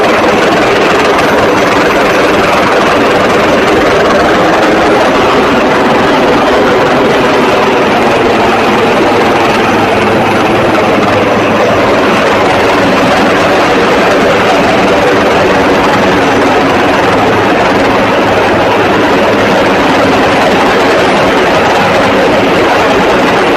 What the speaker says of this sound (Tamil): இறங்கு தளத்திற்கு மேலே பறந்தபடி ஹெலிகாப்டர் இருக்க அங்கு சிக்கி இருந்தவர்கள் மேலே ஏறினர்